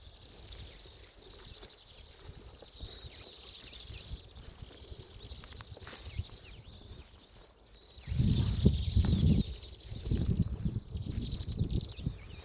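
Small birds chirping on a snowy mountain trail near a temple entrance, a steady scatter of high twitters at mid distance, joined later by louder crunching footsteps or movement close by.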